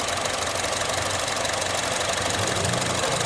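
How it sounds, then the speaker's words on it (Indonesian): A Honda i-VTEC 1500 cc car engine with a five-speed automatic runs steadily at idle, its rapid, even mechanical ticking and hum close and constant, with no voices over it. "di sini dia dibekali dengan mesin yaitu Honda i-VTEC dengan tenaganya yang sebesar 1500 cc"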